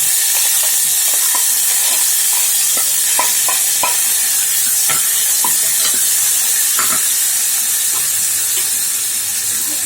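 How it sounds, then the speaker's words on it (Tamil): Chopped onion and tomato sauté with urad dal in a hot pan, a loud continuous sizzle and hiss broken by frequent sharp spatula taps and scrapes, close up with no voices. "ஒரு வெங்காயம் ஒரு தக்காளி கட் பண்ணி வச்சுருக்கேன் சேர்த்து"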